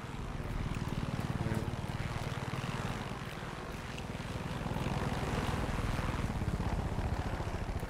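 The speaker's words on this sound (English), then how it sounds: "Incoming helicopter." A helicopter in the video game Far Cry 6 approaches with a steady, loud rotor and engine drone with rapid rhythmic chopping, holding close and constant throughout with no pauses.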